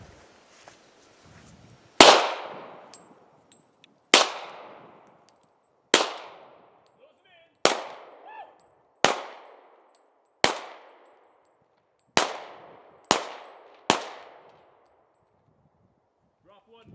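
Sig P226 pistol fired at steel targets outdoors: nine sharp, loud shots spaced roughly one to two seconds apart, each with a ringing metallic decay, no talking.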